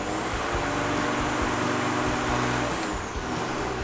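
A GTRM34 mower engine runs steadily at close range, a constant loud mechanical drone with a low harmonic hum that holds even throughout, dipping briefly near the end before picking back up.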